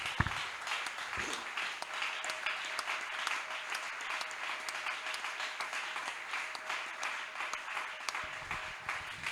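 A church congregation applauds at a Sunday worship service, sustained clapping from many people filling the room, with a few sharper close claps and faint cheering mixed into the steady wash.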